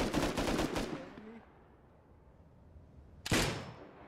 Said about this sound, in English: I am so good at shooting the sniper rifle